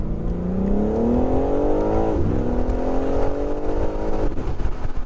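A 2023 BMW M4 Competition xDrive accelerates hard from 30 to 70 mph, its engine note climbing steadily in pitch with a brief dip at a gear change around two seconds and another shift near the end, loud and continuous with no talk.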